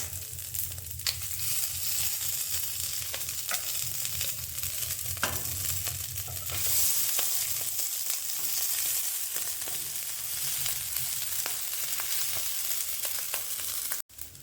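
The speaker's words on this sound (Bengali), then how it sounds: "চালটা ঢালার পর চালটা কিন্তু দু থেকে তিন মিনিট আমরা ওই ফোড়নের সাথে নাড়াচাড়া করব" Basmati rice stir-fried in a pan with whole-spice tempering: a steady close sizzle with occasional soft stirring scrapes, and a sharp knock right at the end.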